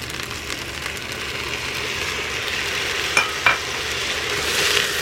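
Tomato paste and garlic stirred and sizzling in a pressure cooker while making short ribs: a steady close frying hiss with a couple of brief scraping stir strokes, no talking.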